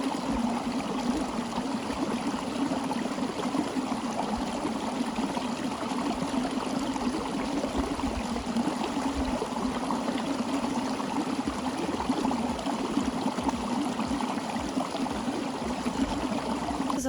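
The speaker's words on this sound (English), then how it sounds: "you can fill up your water bottle at almost any stream," A flowing stream in rugged hiking country with rocky terrain, its water rushing steadily and continuously at close range, a dense even wash with no pauses and no voices.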